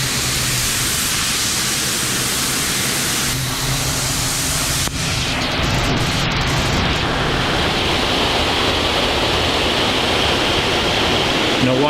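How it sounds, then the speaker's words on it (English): Water leak tester drenching a Ford F-150 Lightning pickup inside the factory test booth, a loud, continuous rushing spray with no pauses, like heavy rain or a waterfall, steady throughout. "There is water coming out from every surface in this room to test the truck for leaks."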